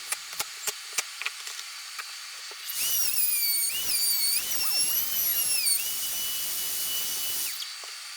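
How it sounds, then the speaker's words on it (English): Drywall screws backed out of a wooden stair template with a cordless drill, a few light taps first, then a whining, whistling motor run for several seconds before stopping. "This footage shows how simple it is to undo the drywall screws and move the template to the next position."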